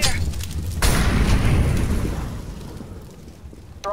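A grenade goes off in a video game with a loud, close booming blast that sweeps into a long rumbling, debris-filled roar before decaying, as a voice calls out over the action.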